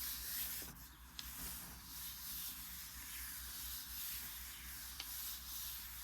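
Paper is smoothed down by hand onto a gel printing plate for botanical printing, giving a soft, continuous rubbing swish with faint scrapes, quiet and close with no talking.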